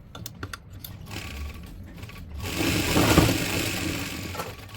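A sewing machine stitches a salwar belt, first a few light clicks and taps, then a steady mechanical whir that swells and holds near the microphone.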